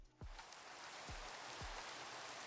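Steady rain hisses in the Minecraft game world, a soft, constant wash of falling drops with a few low swooping tones mixed in, quiet and without speech.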